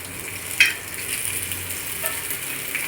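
Pomfret fish sizzling in a frying pan, a steady close crackle of hot oil with a brief louder spatter as the fish is turned.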